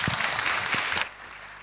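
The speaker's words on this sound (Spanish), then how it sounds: "Despedimos con este cálido aplauso al panel de no convencionales" An audience at a conference event applauds warmly with loud dense clapping for about a second, then cuts off abruptly into quiet room tone.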